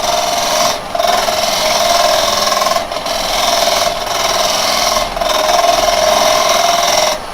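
A carbide tool makes gentle cuts into Zebrano wood spinning on a lathe, a loud, continuous, steady whirring scrape broken by several brief pauses, with no talking.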